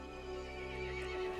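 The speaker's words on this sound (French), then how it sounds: "Le cheval se mit en colère et appela les autres monstres." A horse neighs in the Resident Evil Village game, a brief shrill whinny over faint hoof clatter and a low steady hum, fairly quiet with no voices.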